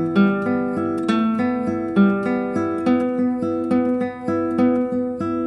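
Classical guitar plays a picked arpeggio pattern on nylon strings, a steady run of single notes ringing into each other at a moderate tempo, close and clear with no talking.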